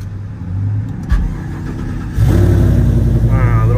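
A pickup truck engine cranks briefly and catches, then settles into a loud, steady idle as it warms up, with a voice speaking over the running engine.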